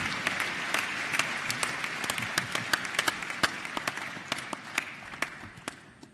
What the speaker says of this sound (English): Let's give you another round of applause, ladies and gentlemen.